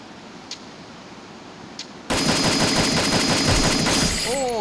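Video game gunfire starts as a sudden, loud, sustained rapid burst of automatic shots after a quiet stretch with two faint clicks, then ends with short rising tones.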